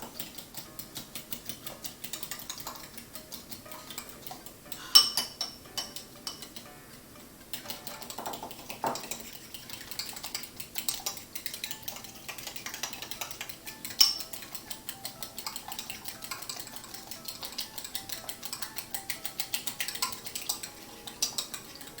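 Ingredients being mixed in a pan for breakfast, with clarified butter, give off faint clinking and scraping of a utensil against cookware. A few sharper knocks stand out from the steady low stirring, with no talk.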